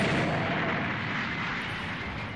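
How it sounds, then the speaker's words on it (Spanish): Explosion in a Dragon Ball fighting game, a sustained roaring blast of dense noise filling the whole span, loud and close, slowly easing off toward the end. "Ahora explota."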